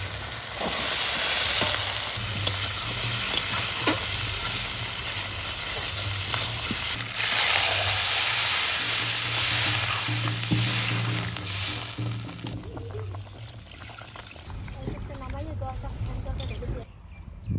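Potatoes fry in a pan with dried red chillies, bay leaf, cumin and ginger, a steady close sizzle running under ongoing conversation before thinning out toward the end.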